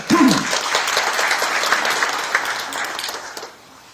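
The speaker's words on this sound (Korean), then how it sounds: "다시 한번 큰 박수 부탁드리겠습니다" An audience at an education administration forum claps steadily for about three seconds before the applause tapers and stops, a brief tone sounding at the start.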